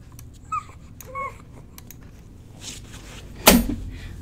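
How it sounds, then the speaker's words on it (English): Small dog whimpering indoors in a home sewing room: a few short, thin, high whines in the first second or so, faint and fairly close, followed later by a single louder thump. "Hello, puppy."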